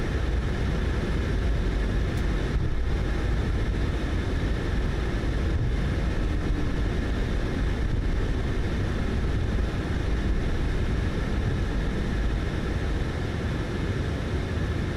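A Boeing 737 MAX 8 rolling for takeoff in Microsoft Flight Simulator, a steady, loud engine roar with a deep low rumble that holds constant throughout, without voices.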